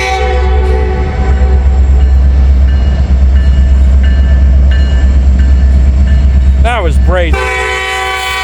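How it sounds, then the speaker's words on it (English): A Norfolk Southern freight train rolls past up close in Hamilton, a loud steady rumble of cars with sustained horn tones, briefly joined by a rising-and-falling whistle-like wail near the end, while a voice speaks over it. "Next train coming down the line is Norfolk Southern"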